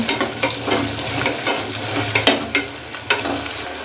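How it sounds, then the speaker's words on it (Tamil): Onions and spices for beef biryani sizzle in a pan while being stirred, a loud, continuous close frying hiss broken by regular scraping stirs, with no talking. "ஒரு 2 நிமிஷத்துக்கு இது எல்லாத்தையும் நல்லா வதக்கி எடுத்துக்கிறோம்."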